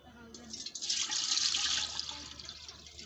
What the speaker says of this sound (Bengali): হাঁড়িতে দিয়ে দিচ্ছি বেশ খানিকটা জল